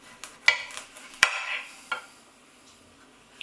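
A knife cuts a squash in half on a board, a few sharp thuds and scraping cuts spaced irregularly, close and fairly quiet, with no talk.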